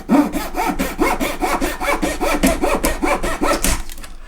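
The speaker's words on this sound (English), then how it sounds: "Using a little mitre block means that I get a nice square cut." Scrap wood sawn by hand in a small mitre block, about twelve brisk even back-and-forth strokes in a steady rhythm, loud and close with no talk, ending abruptly as the cut finishes.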